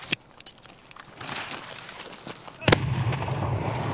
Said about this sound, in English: Perfect nade, but the dude doesn't go down